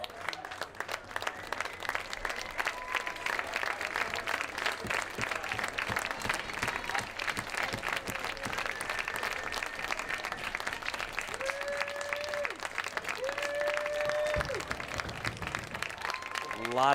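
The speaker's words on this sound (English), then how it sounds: "a lot of well-earned clapping" Sustained applause and clapping from a large crowd at an NPSL soccer match, Flower City Union vs. Syracuse FC, while a commentator talks over it and faint whistles rise near the end.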